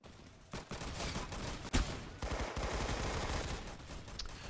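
Gunfire in the Roblox Arsenal video game, several bursts of shots breaking out close and loud, with one sharp crack standing out midway and rapid shooting running on to the end.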